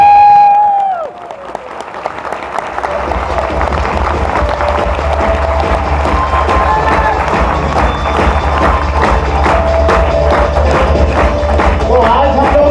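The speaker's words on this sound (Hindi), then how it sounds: "मैं जोरदार तालियां आपके लिए हो जाए।" An audience at a seminar in Varanasi breaks into loud, sustained applause after a brief voice, steady clapping continuing close and dense to the end.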